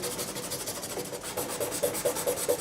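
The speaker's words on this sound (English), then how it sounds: "What I'm going to do here is get a bit of sandpaper, 400 grit, and take off this glue." Fine 400-grit sandpaper rubs glue off the wooden fretboard of a 1980s Korean-made Antoria EG1935 Rock Star 335-style guitar, a close, soft scratchy rasping in a steady back-and-forth rhythm that grows slightly stronger toward the end, without any voices.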